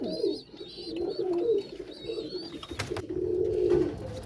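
Pigeons coo in low, throaty bursts close by, several rolling calls in a row, with faint high chirps and a brief clatter in the background.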